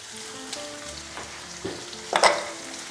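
Onions frying in a pan, a steady soft sizzle with a few clinks and a brief louder scrape of stirring near the end; no talking.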